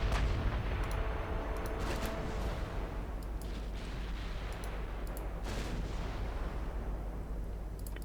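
Naval gunfire from a 1910-era German fleet in Ultimate Admiral Dreadnought, with the cruiser Königsberg's 16-inch guns firing on a battleship: a steady low rumble of heavy guns with several sharp booms rising from the din, sustained throughout.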